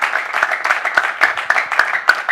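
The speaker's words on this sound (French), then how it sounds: "Maximum d'applaudissements pour vous." Studio audience applauding on a French sports talk show, a brisk crowd of clapping hands close and fairly loud, with sharper individual claps standing out through the steady wash.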